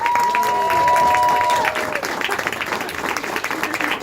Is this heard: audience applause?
yes